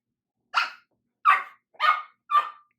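A dog barks four times at a steady pace, close and clear, with silence between each bark.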